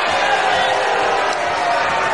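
A 1975 wrestling crowd at the Sports Centre in Crawley, England, gives a loud, sustained roar of reaction after a pinfall, a dense wall of voices filling the hall under a commentator's talk.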